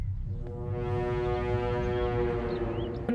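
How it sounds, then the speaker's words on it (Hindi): A long, steady, droning car horn blares outside a house, held without a break for about three seconds. "घर के सामने आकर हॉर्न बजा रहा है।"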